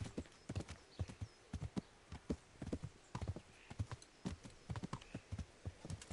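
Horse hooves clip-clop in a PS4 video game, a quiet, steady rhythmic trot of paired hoofbeats that continues evenly throughout.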